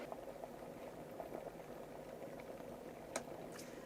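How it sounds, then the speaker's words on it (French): Water simmering in an electric kettle powered by a compact portable power station, a soft, steady bubbling hiss throughout with a couple of faint clicks near the end, quiet and alone. "On n'entend que l'eau qui frémit dans la bouilloire."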